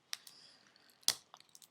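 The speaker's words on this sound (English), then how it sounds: "This one's a little harder, so I'll just nick it with the scissors." Scissors nicking and cutting into a hard plastic surprise egg, a few sharp close snips and clicks separated by short pauses, with one louder crisp cut followed by small ticking taps.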